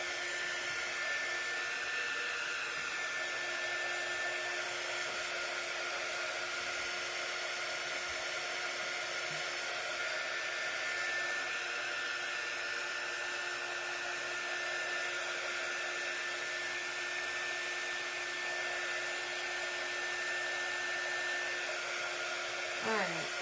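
A hair dryer blows steadily and loudly for the whole stretch while drying a Halloween jar craft, with a constant whooshing roar and a faint whine, running alone without talk.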